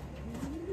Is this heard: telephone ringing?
no